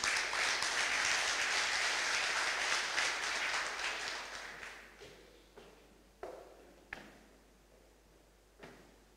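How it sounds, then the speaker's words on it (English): Audience applause greets the CEO at a corporate conference opening ceremony, dense clapping that thins out after about five seconds into a few scattered claps and taps in a large hall. "Please, an applause."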